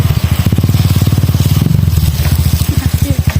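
A motorcycle carrying a load of reject wood, its engine chugging in a steady, close, loud pulse throughout with faint rattling from the cargo.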